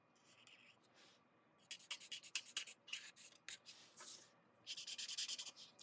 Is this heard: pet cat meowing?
no